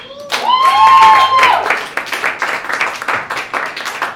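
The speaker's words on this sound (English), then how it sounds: "Huge applause." Applause from a stand-up comedy club audience, a dense burst of clapping that swells loud in the first two seconds and then thins into scattered claps and cheers.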